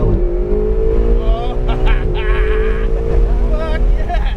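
A Ferrari 488 GTB accelerates hard on a race track, its engine note climbing loud and close through rising revs with a brief shift, while a voice talks over it.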